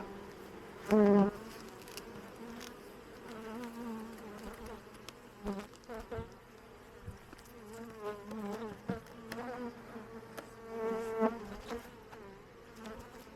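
Close, persistent buzzing of many honeybees swarming around an open hive, with individual insects droning past the listener in wavering passes.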